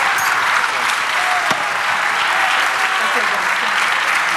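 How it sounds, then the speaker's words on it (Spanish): A church congregation applauding during a Spanish-language sermon, a continuous wash of many hands clapping, fairly loud and even, with a few faint voices mixed in. "Aleluya, dale aplauso."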